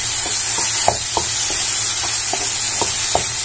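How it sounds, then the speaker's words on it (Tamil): A mango and ginger pickle mixture is stirred in a pan, a spoon scraping in soft, irregular strokes over a constant bright sizzle, close and fairly loud. "இப்போ அப்படியே எல்லாத்துக்குமே நம்ம மிக்ஸ் பண்ணிடலாம் ஃப்ரெண்ட்ஸ்"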